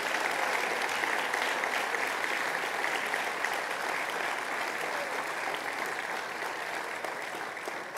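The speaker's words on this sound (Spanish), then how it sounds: "Yo quiero que demos otro aplauso grande por nuestros pastores." A church congregation gives its pastors a big round of applause during a service, dense, even clapping sustained for about eight seconds and gradually easing.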